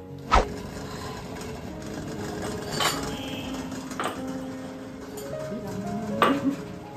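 A steel container sits in boiling water on a normal gas flame, steaming caramel custard, and knocks against the pot in a few sharp metallic clunks over a steady bubbling hiss, close by.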